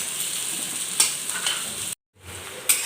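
Onion and capsicum stir-frying in a pan for chilli chicken, a bright close sizzle with a few spatula scrapes, broken by a brief moment of silence before the frying resumes.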